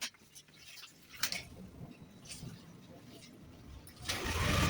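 A Yamaha NMAX V2 scooter engine is switched on and catches near the end, rising into a steady close idle after quiet clicks and brief talk.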